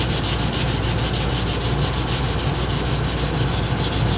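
Steady, rhythmic hand sanding of a Chevy short bed truck's door jambs, with quick back-and-forth abrasive strokes, close and continuous, with no talking.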